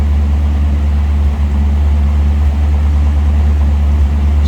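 A 1957 Ford Thunderbird with a 312 V8 idles with stock exhaust, a steady deep low rumble holding even and close for the whole stretch, with no talking over it.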